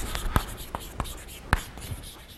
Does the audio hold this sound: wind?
no